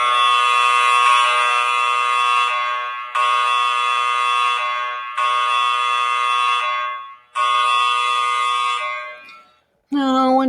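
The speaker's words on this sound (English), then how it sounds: "Late that night, the fire alarm sounded." A fire station fire alarm blares in four long, loud, evenly spaced electronic blasts, each lasting about two seconds with short gaps between, then stops and leaves a brief silence.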